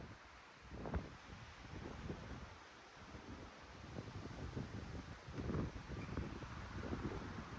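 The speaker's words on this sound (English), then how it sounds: "the wind is really getting insane" Strong storm wind in South Heart, North Dakota, roaring steadily against the microphone with gusty surges and rustling, fairly faint overall and with no voices.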